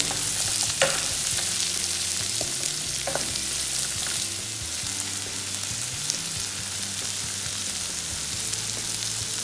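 Sliced onions fry in a pan for chicken dopyaza, a steady close sizzle with occasional stirring clinks and scrapes.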